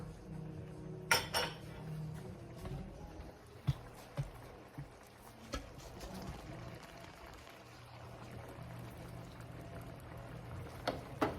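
A lamb shank is placed into a mushroom sauce in a pot, with soft clinks of metal and cookware, light liquid pouring and gentle simmering, close and fairly quiet.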